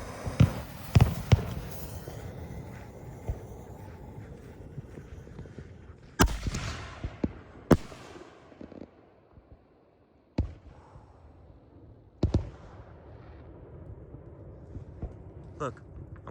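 A 5-inch Megaton willow canister firework shell bursts outdoors with sharp, loud reports and crackling, several distinct bangs spaced across the sequence, with people talking underneath.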